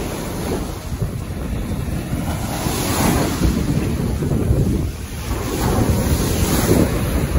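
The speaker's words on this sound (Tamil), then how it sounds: "கடல் அண்ணே இந்த கொந்தளிப்பு பாத்தீங்களா?" Rough seas surge and crash steadily onto a village shoreline, a continuous loud roar of breaking surf with heavy wind buffeting the microphone throughout.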